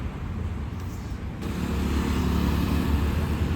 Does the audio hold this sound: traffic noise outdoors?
yes